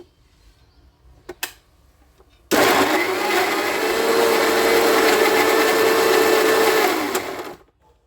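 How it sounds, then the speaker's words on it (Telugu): A mixer grinder blending onion and tomato into a puree whirs loudly and steadily for about five seconds, starting abruptly and winding down at the end, after a couple of faint clicks. "ఇప్పుడు ఇవన్నీ కూడా మనం మిక్సీ పెట్టుకోవాలండి"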